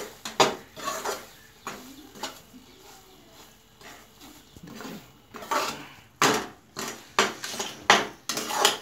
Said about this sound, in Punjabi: ਸੂਜੀ ਆਪਾਂ ਇਹਨੂੰ ਵਧੀਆ ਤਰੀਕੇ ਨਾਲ ਭੁੰਨਣੀ ਹੈ, ਕੱਚੀ ਨਹੀਂ ਰਹਿਣ ਦੇਣੀ, ਇਹਨੂੰ ਹਿਲਾਉਂਦੇ ਰਹਿਣਾ